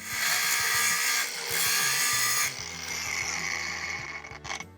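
An ordinary angle grinder works a weld seam cut at a 60-degree angle, a loud continuous whine broken into several surges as the disc bites and eases off, near and alone.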